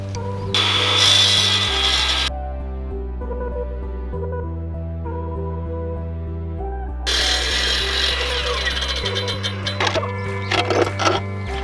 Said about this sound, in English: I have a diamond blade that's designed for cutting concrete on my chop saw